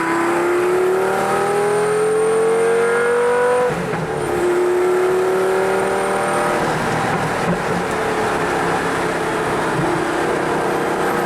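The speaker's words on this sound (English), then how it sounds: "Got some backfires, I love it." A loud Lamborghini Gallardo V10 engine revs and roars continuously, with a sharp break midway, then crackles and pops from the exhaust as it settles.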